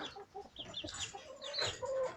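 Faint clucking of chickens, including young Italian cockerels, and guinea fowl nearby, soft overlapping calls with a few higher squawks.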